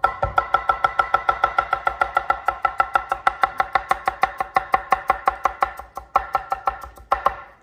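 A knife finely chops vegetables on a board in a steady, fast, even rhythm of crisp close taps, about four strokes a second, with a short pause near the end and no talking.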